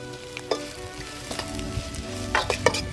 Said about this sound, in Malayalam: നമ്മുടെ സബോളയൊക്കെ നല്ലപോലെ ഒന്ന് മൂത്ത് വരുന്നുണ്ട്.